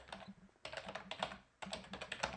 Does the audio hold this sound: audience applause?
no